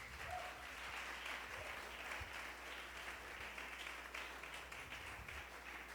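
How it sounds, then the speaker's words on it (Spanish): Congregation in a church clapping as an offering to the King, a sustained, even wash of applause from many hands, fairly faint and distant, continuing for six seconds without speech. "dale una ofrenda de palmas al Rey"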